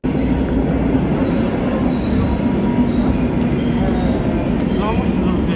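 A train stands at a station on the way to Gdańsk, its steady loud rumble and hum filling the scene while people talk nearby.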